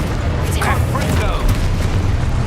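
Booming Confringo explosive spell blasts in Hogwarts Legacy, a loud rumbling impact with a brief crackling flare, set against constant battle noise and low thuds.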